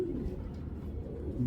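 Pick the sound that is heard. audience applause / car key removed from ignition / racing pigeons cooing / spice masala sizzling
racing pigeons cooing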